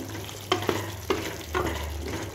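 Mutton being roasted in a pan for bhuna gosht, a steady close sizzle of frying meat broken by a few sharp scrapes and stirring knocks of a spoon against the pan.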